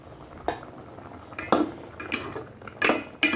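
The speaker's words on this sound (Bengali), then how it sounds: "এবার এইভাবে কিন্তু আমি নাড়তেই থাকবো" Leafy greens are stirred in a pot, a metal utensil clanking and scraping against the sides in a handful of uneven, close strokes.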